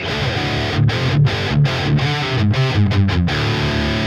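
Electric guitar through the JST Toneforge Guilty Pleasure amp simulation plugin with a clean, undriven tone, overdrive off, playing a steady run of notes and chords without pauses.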